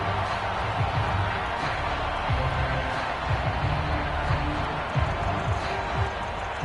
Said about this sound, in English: And this crowd into it early.